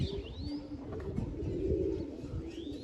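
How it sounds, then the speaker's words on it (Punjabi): Low, throaty pigeon cooing repeats close by over a murmur of background noise, with a few faint chirps above. "ਕਬੂਤਰ ਦੋ ਆਏ ਫਿਰਦੇ ਆ"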